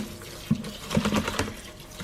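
Water runs into a kitchen bowl to cover hamburger ingredients, a steady splashing fill with a few brief clinks and bumps as the level rises, close and fairly quiet.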